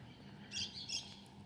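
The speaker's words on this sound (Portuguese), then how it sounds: "ouvindo a cantoria dos pássaros" Small birds chirp in two short bursts, faint and somewhat distant, along a quiet colonial-town street with a low steady background hum.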